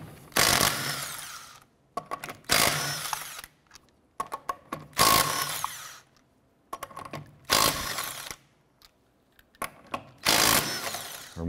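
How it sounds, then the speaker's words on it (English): A power tool with a 19 mm socket spins lug nuts off a wheel of a 2006-2013 Chevrolet Impala in five loud, close bursts separated by short pauses, with no talking. "let's go ahead and remove our lug nuts."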